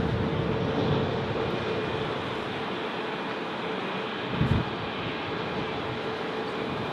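Broadband jet roar from a large aircraft, an Il-76 freighter, at Berlin BER airport, a steady loud rumble with a faint tonal whine holding throughout and a brief thump near the end.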